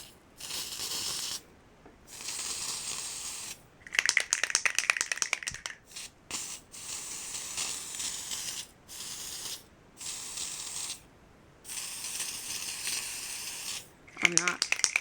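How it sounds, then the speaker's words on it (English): Spray paint hisses from an aerosol can onto a glass jar in bursts of several seconds separated by short pauses, with a faint rattle near the end. "I'm not being very specific either with how I spray this."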